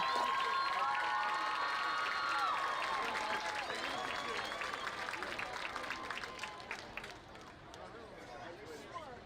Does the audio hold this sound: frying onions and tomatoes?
no